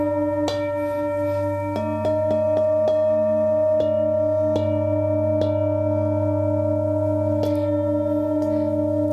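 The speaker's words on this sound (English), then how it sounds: "when the tones come together, they make a beat tone" Singing bowls hum with sustained overlapping tones that pulse into a slow beat, and soft strikes ring out every second or so in a quiet room.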